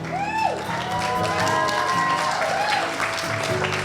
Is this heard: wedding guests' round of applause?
yes